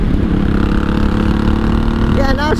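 A 1983 Honda Shadow VT750C motorcycle on the road, its engine droning loud and close with a steady low throb, then shifting in pitch as it downshifts near the end, with a voice talking over it.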